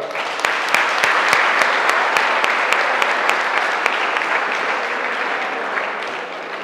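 Loud applause from a crowd of 10th and 12th grade students seeing off a doctor, with sharp individual claps standing out early before the clapping thins and fades.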